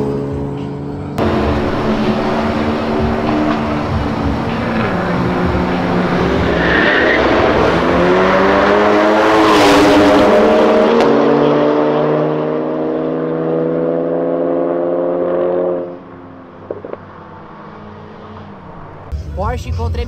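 A Porsche and a BMW M2 race on a street. A car engine roars loudly and climbs in pitch through the gears, with tire noise, before the sound drops away abruptly near the end. Voices are faintly present.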